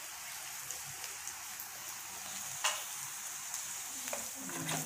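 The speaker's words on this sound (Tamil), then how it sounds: "இப்போ பாருங்கள் சிக்கனும் நல்லா அந்த ஃப்ரை ஆகி வந்துடுச்சு" Chicken frying in a pan while an egg omelette with several meats is being made, a steady soft sizzle with faint crackles and an occasional stir, heard alone.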